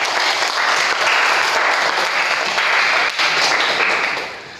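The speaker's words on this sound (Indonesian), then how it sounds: "Oke, tepuk tangan." A classroom of vocational high school students bursts into applause, a dense, steady burst of many hands clapping that fades slightly at the end, with no speech over it.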